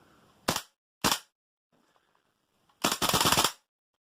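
A Tokyo Marui AKM gas blowback airsoft rifle fitted with a 130% recoil spring fires two sharp single shots, then a short full-auto burst of rapid clacking reports, loud and close, with no talking.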